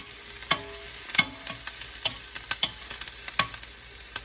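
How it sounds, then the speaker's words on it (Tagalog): Onion and garlic sizzle steadily in a hot pan for ginataang puso ng saging, while a utensil stirs and knocks against the pan in irregular clicks, close and clear, with no talking. "gisang-gisa na ang sibuyas at bawang"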